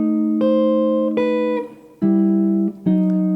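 Jazz guitar plays a Bach-style Baroque chord progression, four ringing chords struck in turn with clear sustained tones, each decaying briefly before the next, played alone and close with no talk.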